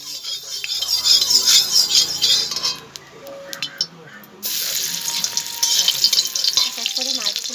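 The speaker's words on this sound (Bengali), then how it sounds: "এক এক করে মাছগুলো ভেজে নেবো।" Fish pieces fry one by one in hot oil for a Bengali fig (dumur) dish, giving a loud, close sizzle that fades briefly midway, then surges back with small clinks and scrapes.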